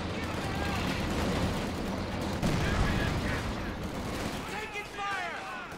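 Rapid machine gun fire rattles through a Company of Heroes 2 battle in dense continuous bursts with other gunfire and booms mixed in, under a busy layer of game noise.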